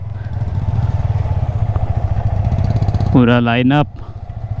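Motorcycle engines run steadily as riders set off from a roadside stop on a ride between Gurgaon and Delhi, a continuous rumble under speech with a brief loud voice near the end.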